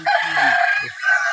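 Rooster crowing loudly and close among a flock of farm chickens, one long drawn-out call with some clucking underneath, no talk.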